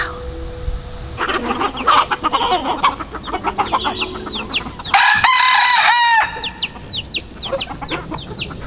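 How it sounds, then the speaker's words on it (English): Farmyard chickens and roosters calling close by, with repeated clucking, squawks and a loud crow standing out over a busy flock. "I could spend hours just filming these birds and watching them."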